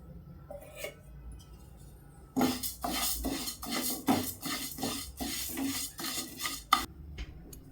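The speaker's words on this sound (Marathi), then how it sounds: "आता उडदाची डाळ भाजून घेऊया" Urad dal roasting in a pan, stirred with a utensil that scrapes and clinks against the metal in a steady irregular rhythm after a quiet start, close with no talking.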